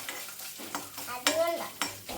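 Coconut pieces frying in a pan for sago payasam, stirred with a ladle: soft scraping strokes and light sizzling in a few short bursts, close and fairly quiet, with no talk.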